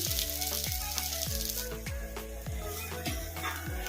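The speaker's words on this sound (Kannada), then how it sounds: "ಇದನ್ನು ಮೀಡಿಯಮ್ ಫ್ಲೇಮಲ್ಲೇ ಫ್ರೈ ಮಾಡ್ಕೋಬೇಕು" Grated raw potato dosa frying on a pan over a medium flame, a continuous close sizzle with faint crackling, while steady background music plays.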